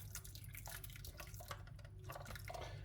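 Hot water at about 70 degrees is poured into a bowl, producing faint, close trickling and dripping sounds in a quiet room with no talking.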